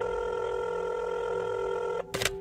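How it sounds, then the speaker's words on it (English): A steady telephone tone hums loudly for about two seconds, then cuts off and gives way to a short burst of bright dialing or clicking noise, with no talking. "she grabbed her phone and dialed a number"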